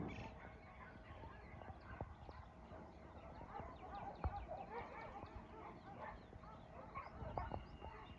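Hooves clop faintly on the ground with scattered clip-clop steps, with soft fowl clucking and light distant noise behind.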